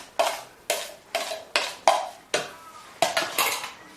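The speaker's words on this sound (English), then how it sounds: "you do a little mixing to make sure that all the ingredients have gone round" Flour, salt and dry pepper are mixed in a bowl, with eight sharp, evenly spaced scrapes and clinks of a utensil against the bowl, close and distinct, with no talking.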